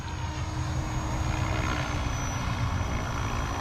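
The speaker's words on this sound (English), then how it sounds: "the helicopter is flying itself. So that is a hands-off hover on the helicopter" An RC helicopter hovers hands-off under GPS stabilisation, giving a steady, continuous rotor and motor drone with a faint high whine, even and unbroken throughout.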